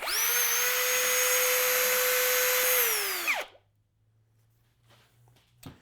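A power drill mixes two-part epoxy resin for a glowing LED sign, its loud, steady motor whine running for about three seconds before winding down and stopping, leaving near silence with a few faint taps.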